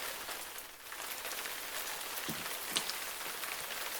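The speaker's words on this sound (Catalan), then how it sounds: "es posa a ploure molt fort" Dense, heavy rain hisses steadily across a surface, with scattered sharper drops and patters standing out against the constant downpour.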